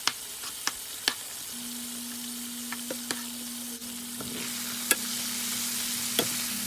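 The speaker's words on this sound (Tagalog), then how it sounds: "So while we're frying our chicken, double fried" Chicken frying in hot butter or margarine during the second fry, a close, steady crackling sizzle with occasional sharp pops and brief stirring clatters, no talking.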